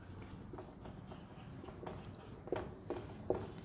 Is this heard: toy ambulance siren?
no